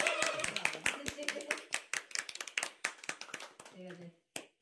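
Hands clap in a quick, uneven burst at a small home wedding-anniversary celebration at night, several people applauding close by with voices mixed in, then the clapping thins to a few scattered claps as talk continues.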